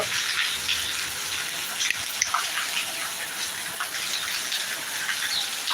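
Heavy monsoon rain pours down in Attingal, Thiruvananthapuram, making a dense, steady hiss of water that stays loud and even throughout, with no voices.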